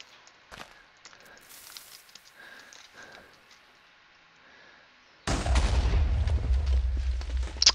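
TNT explosions in Minecraft, a sudden loud booming blast that rolls into a sustained rumbling crackle after several seconds of quiet clicks and faint game sounds.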